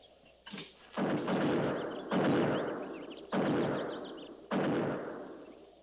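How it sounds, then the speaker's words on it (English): Buffalo guns firing out on the plains: four heavy booming shots, spaced roughly a second apart, each with a long rolling decay, fairly distant and with no voices over them. "Buffalo guns. That's one sound they can't muffle."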